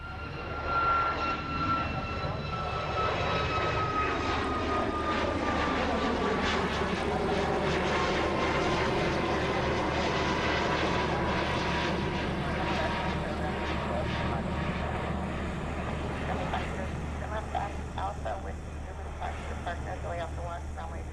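Aircraft engines roar steadily at Honolulu airport during planespotting, a loud continuous drone with a slowly shifting pitch that fills the whole stretch, with faint talk now and then underneath.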